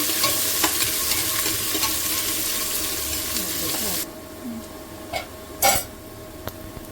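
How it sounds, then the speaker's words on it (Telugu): Mutton curry ingredients frying in a pan until brown, a steady close sizzle for the first few seconds that drops away, followed by a few sharp spoon clinks and scrapes against the pan. "బ్రౌన్ కలర్ వచ్చే వరకు వేయించుకోవాలి."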